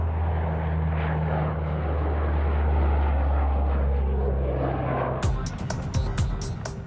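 A Royal Air Force Chinook helicopter's heavy engine and rotor drone holds loud and steady, with a voice talking over it, before sharp rhythmic clattering bursts break in near the end.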